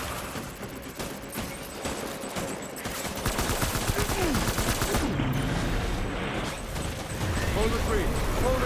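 Gunfire in Death Stranding, heads being shot off enemies: a dense, continuous fusillade of shots under a constant bed of game battle noise and chatter, steady and fairly loud throughout.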